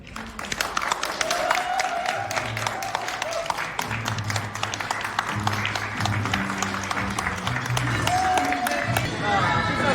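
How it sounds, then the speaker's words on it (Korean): Guests at a Korean wedding applaud outdoors, a continuous patter of many hands clapping at close to moderate distance, with brief cheers and voices mixed in. "큰 박수."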